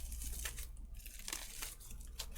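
Bubble wrap crinkles and rustles softly and close up as it is peeled from the wing piece of a Kotobukiya Darkstalkers Morrigan Aensland Bishoujo figure, with a few sharper crackles.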